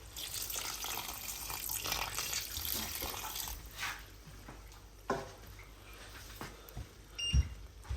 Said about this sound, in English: I'm gonna add 1 cup of water to this.